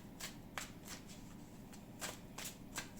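Psychic tarot cards are shuffled and laid down in a run of soft, crisp papery slaps and swishes, about eight of them in quick irregular rhythm, close by and quiet, with no talking.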